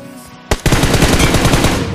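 Gunfire in the mobile shooter Battlegrounds Mobile India: a sharp single shot, then a loud, rapid automatic burst that fires continuously to the end.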